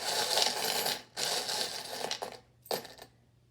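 Small charms clatter into a bowl in two rattling, jingling bursts, followed by a short final clink, close and moderately quiet with no talking.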